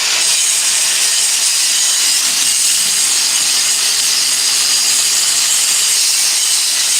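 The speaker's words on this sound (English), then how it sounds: "I know it's a cut-off wheel, it's not a grinder, but it's working." A cut-off wheel grinds through metal with sparks flying, a loud, steady, harsh high-pitched whine and hiss that holds unbroken for several seconds, close by and with no speech.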